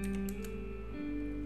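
Quick taps on a computer keyboard while typing a search for VirtualBox, a short run of a few light keystrokes over a steady electrical hum, with no talking.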